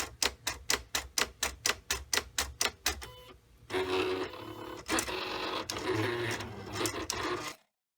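An Oracle vinyl cutting machine loaded with a mat adjusts its blade to setting 1, giving about a dozen rapid, evenly spaced mechanical clicks, then a louder continuous whirring and grinding run that stops abruptly.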